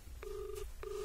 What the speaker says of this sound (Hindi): कॉल तो लग रहा है, कॉल तो जा रही है